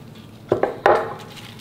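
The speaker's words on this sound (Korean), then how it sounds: "이 배추의 밑둥은 이렇게 잘라내 버리고요" A knife cuts through the base of a napa cabbage being readied for a winter water kimchi: two quick crisp chops and then a firmer crunching cut, close and distinct, with no talk.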